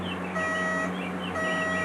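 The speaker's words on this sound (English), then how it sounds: "I have no idea why that alarm clock went off, just that it did" An alarm clock goes off amid a bench of running hard drives, sounding a steady electronic beeping tone that switches on and off in a couple of loud bursts over a constant low machine hum.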